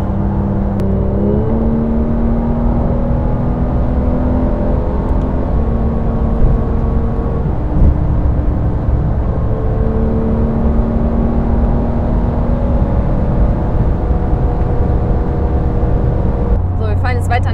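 A Porsche GT3 drives on a dry road, its engine droning steadily with shifting tones as it accelerates. Someone talks over the steady engine noise.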